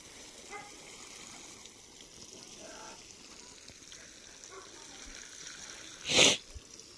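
Irrigation water trickles and flows steadily across a farm field on a cold early morning, faint and continuous, with a brief louder rush of noise near the end.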